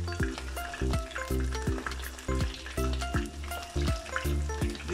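Swordfish frying in a pan with oil reaching halfway up the fish, a continuous crackling sizzle sitting beneath rhythmic background music with a pulsing bass, no voices.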